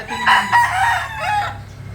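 A broodcock rooster crows once, a loud, strained call lasting under two seconds over faint background noise.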